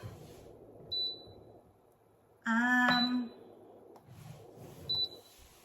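An induction cooktop gives two short electronic beeps several seconds apart, with a louder tonal chime sounding in between, heard in a quiet room, with a frying pan on it that may not suit induction.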